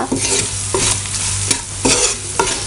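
Soya chunks being stirred in a pan with ground pepper and garam masala, dry-roast style: repeated scraping stir strokes roughly every half second over a steady close sizzle, with no voices.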